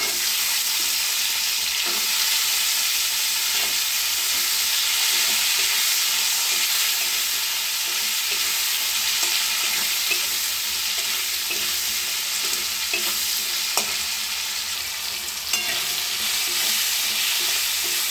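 Potatoes frying in a slightly blackened kadai while cooking mutton, a steady loud sizzle and hiss with intermittent scraping stirs of a spatula throughout, and no talking.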